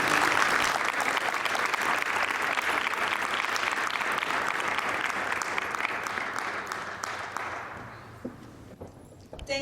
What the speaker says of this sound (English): Give yourselves a round of applause, not for me, but for yourself.